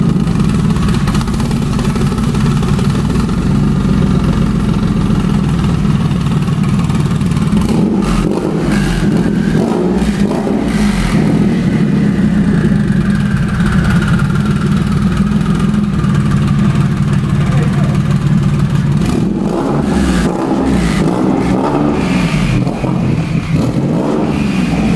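A built Nissan 370Z making over 1,000 wheel horsepower runs hard on a Dynapack dyno, its engine droning loud and steady with repeated rising revs and sharp throttle changes near 8 and 20 seconds.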